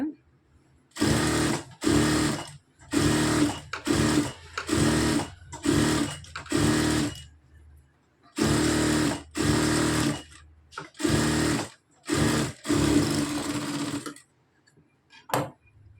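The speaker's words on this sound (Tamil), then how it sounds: "எட்ஜஸில் ஒரு தையல் போட்டு கா உங்களுக்கு தையல் போட்டே நான் காமிக்கிறேன்" Sewing machine stitching along the edges of a neckline runs in a dozen loud, close bursts of rapid mechanical whirring, each lasting about a second, with brief quiet gaps between runs.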